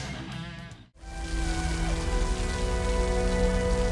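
Heavy rain pouring on a dark night in a film scene: a steady, dense hiss that briefly drops out near the start before returning loud and continuous, with no voices.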